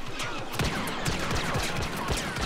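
Blaster gunfire in the Star Wars Battlefront video game on the Sullust co-op mission, a dense rapid stream of sharp shots and impacts layered over one another, continuous and loud.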